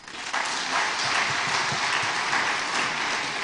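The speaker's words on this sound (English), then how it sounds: "a big round of applause for the Vice President" A crowd at a town hall meeting in Abuja bursts into sustained applause for the Vice President, dense clapping holding steady for a few seconds, with no voices.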